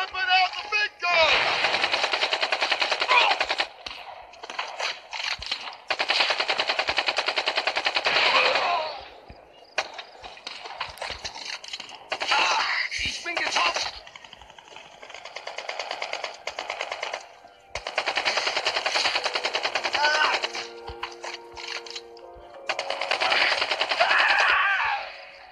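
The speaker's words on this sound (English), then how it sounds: "They're whipping out the big gun!" Heavy automatic gunfire in the Brothers in Arms 3 war game, long loud sustained bursts broken by short pauses, with scattered single shots and faint voices in the gaps.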